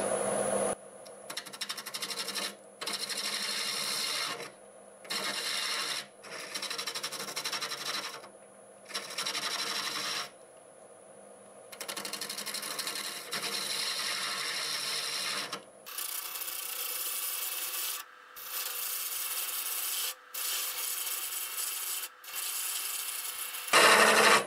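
A segmented wood bowl spins on a lathe at about 800 RPM while a cutting tool held against a support scrapes it in repeated bursts of rasping sound, separated by short pauses.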